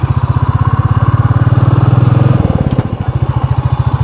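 A Royal Enfield Classic 350 single-cylinder motorcycle thumps along at the start of a night ride, a loud close, even pulsing beat that rises slightly then settles back.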